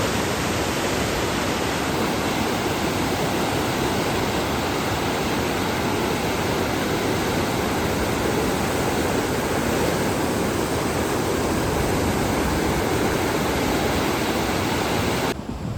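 The Sarsa river flows near Gurdwara Parivar Vichhora with a steady, dense rush of water that stays unbroken and fairly loud throughout, with no voices.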